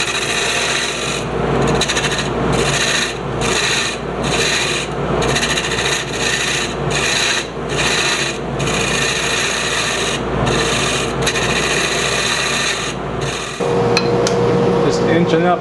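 Steady rasping cuts with a filing or grinding tool inside a bangle, plunge and side cutting to size the inside diameter, in repeated bursts with brief pauses, close and loud, with a sharper tonal whine near the end.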